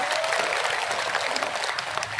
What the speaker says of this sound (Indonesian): Tepuk tangan dulu dong buat Pak Bupati kita